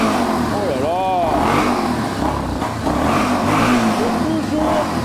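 A Yamaha Warrior 350 quad runs steadily while warming up, its engine rumbling close by with slight rises in pitch, as people talk over it.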